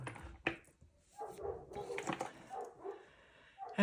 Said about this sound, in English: My dogs are going to be barking just for a moment.